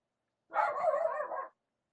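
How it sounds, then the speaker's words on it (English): A single dog, Sarabi, lets out one sustained bark-whine about a second long, close and loud, with silence before and after. "And there goes my dog."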